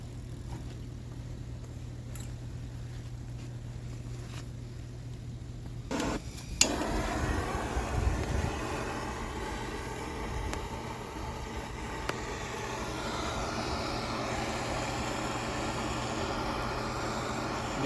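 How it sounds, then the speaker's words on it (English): A small propane torch is lit outdoors among pine trees, a sudden pop and then a steady breathy roar of flame that continues at moderate loudness, with faint low hum and occasional knocks around it. "We're firing this baby up."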